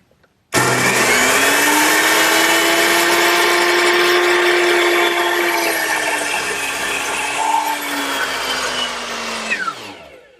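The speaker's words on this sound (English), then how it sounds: "Now I'll cut it to the correct length." A power saw whines steadily for about nine seconds, a loud continuous buzz cutting wood to length for a harvest table before spinning down at the end.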